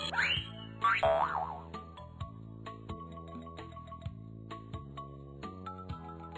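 Springy boing sounds repeat at a steady rhythm over a looping musical backing as dice are tossed in a Korean board game, loud at the start and then recurring about every second.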